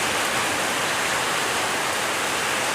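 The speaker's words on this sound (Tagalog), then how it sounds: "Lakas ng ulan sa labas." Heavy rain pours down outside in a dense, continuous roar of hissing water, loud and unbroken throughout, with floodwater building.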